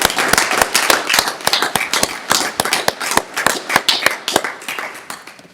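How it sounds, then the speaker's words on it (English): A small city council chamber crowd gives council members a round of applause: a sparse handful of individual claps, distinct and irregular, close by, tapering off toward the end. "We can get a round of applause for them."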